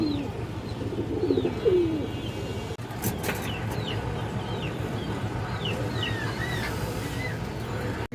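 Pigeons in a loft, including an old-line red female, give soft cooing calls in the first couple of seconds, alongside steady chirping birds and a low background hum; faint calls continue throughout.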